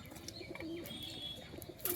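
Soft pigeon coos, low and brief, sound close by amid faint chirps and background noise.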